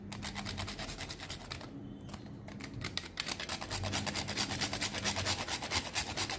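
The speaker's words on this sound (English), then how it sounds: "I will grate little bit of nutmeg" Nutmeg grated for an eggless Christmas cake, a quiet rapid rasping scrape in short repeated strokes, close and faint, with a brief pause partway through.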